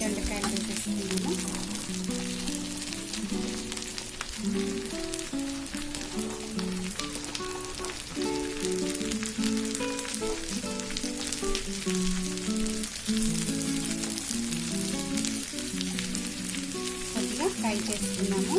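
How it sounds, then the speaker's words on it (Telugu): Ivy gourd frying with curry leaves gives a continuous sizzle under a person's talking voice, with the occasional stir. "కొద్దిగా ఫ్రై చేసుకున్నాము."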